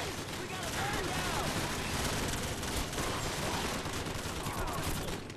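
Sustained battlefield gunfire in the Call of Duty 4: Modern Warfare campaign, a thick, steady barrage of overlapping shots with a distant, rumbling texture, under a voice speaking.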